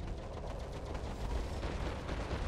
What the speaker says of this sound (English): That's a rocket launcher.